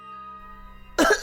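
A boy coughs and chokes, one sudden harsh burst near the end after a soft sustained musical tone.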